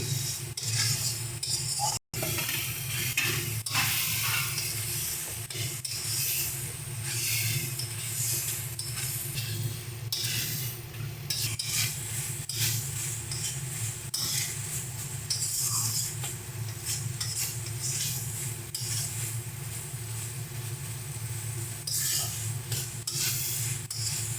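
Katla fish roe frying in spice paste while being stirred, with a steady broad sizzle and a continuous scraping rub of the utensil in the pan, plus a few light clinks; no one talks.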